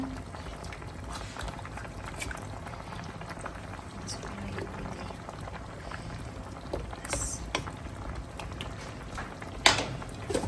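A cauliflower curry in a thin tomato gravy bubbles in a covered pot, a soft, steady simmering patter with occasional louder pops and a faint lid rattle near the end.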